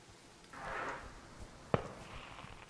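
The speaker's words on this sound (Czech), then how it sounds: "už slyším ten ohňostroj" Distant fireworks in the video game Firewatch: a faint swelling rumble of bursts, then one sharp crack partway through, with a low hiss of air between them.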